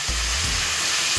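Banana upperi chips frying in hot oil for Onam give a loud, steady sizzle with a faint stirring bump, heard close up and without talk.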